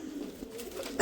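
Red copper-colored Punjabi pigeons coo softly and steadily at close range, a low continuous murmur with a louder burst at the very end.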